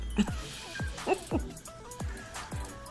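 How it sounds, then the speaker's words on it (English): Several short dog barks and yips in quick succession, fairly close, with a whimpering quality between them and some background voices. "Them dogs are equally as noisy, and I love them all."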